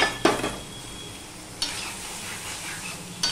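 Kakrol (spiny gourd), already fried, is stirred in a pan with lentils and spices, giving a soft sizzle broken by a few utensil scrapes against the pan, with no talking.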